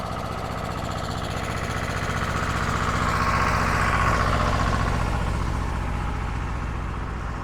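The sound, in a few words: tractor driving past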